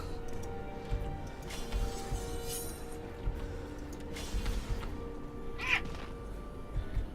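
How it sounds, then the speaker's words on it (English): A pet cat meows and caterwauls in a room, giving several drawn-out, strained cries spread across the stretch over a steady low background hum and faint ticking. "My cat just freaked."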